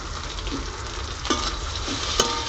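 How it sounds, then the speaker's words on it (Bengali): Crushed garlic and nigella seeds tempering in hot oil give a steady, close, even sizzle with a few brief sharper crackles, and no voices. "রসুন দিয়ে দিচ্ছি ঠাকলানো রসুন দিয়ে দিচ্ছি"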